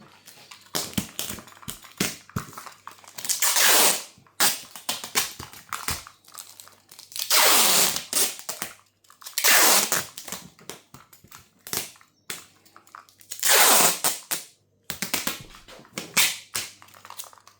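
Clear tape pulled off the roll in repeated loud, crinkly bursts and pressed down over a label on a guitar shipping box, with tapping and smoothing sounds between pulls.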